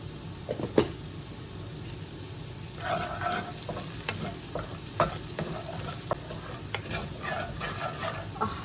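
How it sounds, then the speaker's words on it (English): Garlic fries in a pan with chili and butter for a mussels dish, giving an even, close sizzle with scattered crackles and a few clinks of utensils against the pan. No one speaks. "We're going to fry this until the garlic starts to turn a little bit light in brown color."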